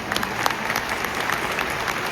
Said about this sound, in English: I think Applejack deserves a round of applause, ladies and gentlemen